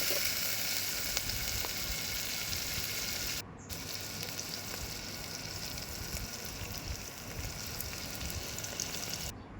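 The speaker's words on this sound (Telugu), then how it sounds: "మనం కట్ చేసి పెట్టుకున్న ఆనియన్స్ మిర్చి కూడా వేసుకొని అవి కొంచెం గోల్డెన్ బ్రౌన్ కలర్ వచ్చేదాకా వేయించుకోవాలి" Onions and green chilies fry in hot oil in a pan for a mutton curry, giving a steady, close, dense sizzle with no talking and only a short dip partway through.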